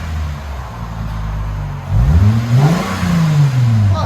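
A 2008 Lexus IS 250 with a 2.5L V6 and a Megan Racing axle-back exhaust with Vibrant mids idles, then revs up and falls back in one rising and falling sweep, loud and close.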